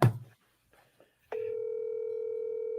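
A telephone call in progress: a brief muffled clatter and silence, then a steady, continuous line tone sounds clearly and without interruption to the end.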